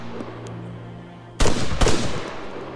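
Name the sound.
gunfire in the video game Arma 3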